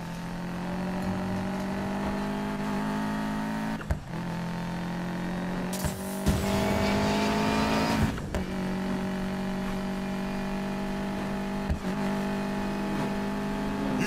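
Cars racing in Need for Speed Payback: a steady, loud engine drone with sustained revving, a brief harsher burst partway through, and no voices.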